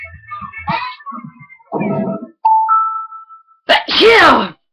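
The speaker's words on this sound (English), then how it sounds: "DLR just sneezed." A person sneezes once, sharp and close, a burst followed by a voiced tail, after a stretch of chatter and electronic game sounds.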